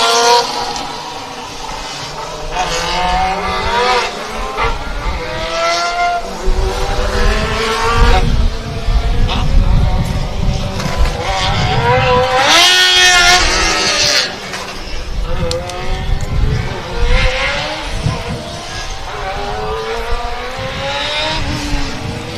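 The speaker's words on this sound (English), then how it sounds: "It's a really, really loud car." A very loud Formula Student race car engine screams and drops repeatedly as it works through the revs during an endurance event, with a commentator talking over it throughout.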